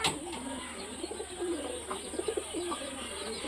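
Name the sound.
high-flying pigeons cooing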